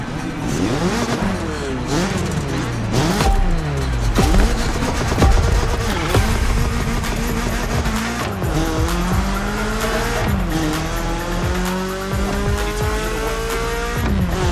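A BMW M3 revs hard with rising and falling gear-change sweeps while its tires squeal through skids, loud and continuous throughout, set in The Crew Motorfest racing game.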